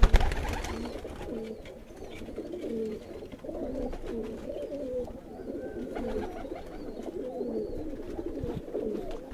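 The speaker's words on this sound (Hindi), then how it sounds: "ये भी कमग्गर कबूतर बैठा हुआ है मेरा, इसके साथ भी मादा कमग्गर है।" Kamagar pigeons coo in a steady, overlapping series of soft low calls, several birds close by, with faint rustling and background noise and no talk.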